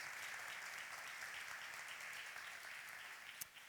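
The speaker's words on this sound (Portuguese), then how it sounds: "vamos aplaudir a Deus por isso" Applause from a congregation of nearly a hundred people at a church baptism class, a steady, fairly faint wash of clapping that holds through the whole stretch with one sharp clap near the end.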